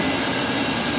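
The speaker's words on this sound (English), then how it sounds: "that's the noise you're hearing is actually the steam station down here taking 125 psi steam and dropping it down" A steam pressure-reducing station in a campus steam plant drops 125 psi steam to lower pressure, producing a loud, even, broadband roaring hiss that runs unbroken.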